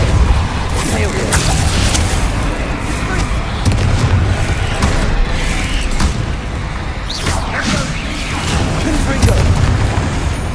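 Repeated booming blasts from the Bombarda explosion spell in Hogwarts Legacy, with whooshing bursts and rumbling impacts over continuous loud combat noise.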